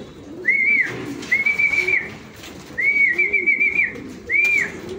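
A bird gives several clear, whistled calls in short bursts, each repeated a few times, over a quiet background with faint low rustling.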